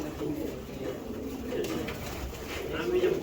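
Racing pigeons cooing close by, soft repeated low coos over a steady background murmur, with a voice speaking faintly alongside.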